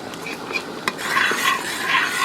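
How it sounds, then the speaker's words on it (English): A spoon stirs onion jam with pectin in a pot on the stove as it bubbles toward a rolling boil, with scraping strokes, a few sharp clinks against the pot, and a soft simmering hiss beneath. "And now we're going to stir continually."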